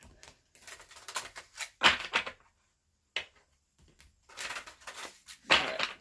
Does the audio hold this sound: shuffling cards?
yes